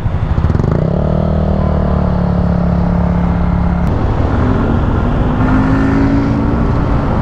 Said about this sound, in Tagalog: Traffic lang dito dahil sa main entrance ng ano ba to, SM.